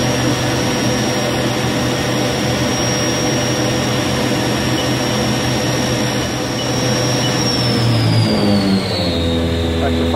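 A 2005 Haas VS-3 CNC vertical mill spindle runs at high speed with a loud, steady whine and roar, then winds down in pitch near the end as it changes gear, recorded close up.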